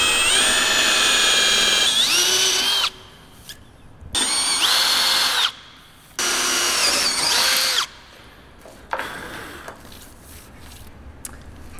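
Power drill boring holes in an aluminum sailboat mast, three long loud bursts of high whining drilling separated by brief pauses, followed by a shorter final burst, close and without talk.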